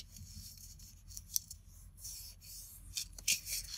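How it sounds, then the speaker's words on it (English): Scissors snip and rasp through card backing in a papercraft wall hanging project, a few quiet, close, scratchy cutting strokes with no talk. "my scissors to trim it."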